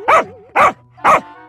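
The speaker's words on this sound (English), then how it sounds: "Why is this mutt coming after me for God's sake?!" A dog barks aggressively three times in a steady rhythm, each bark loud and close, with short quiet gaps between them.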